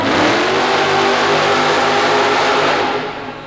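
A super modified mud racing car roars through a mud-pit run at a 1990 Baltimore event, its engine loud and sustained at high revs before easing off and fading in the final half second.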